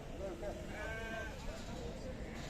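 Young lambs bleat at a busy sheep market, giving a few short bleats over a constant crowd murmur with people talking nearby.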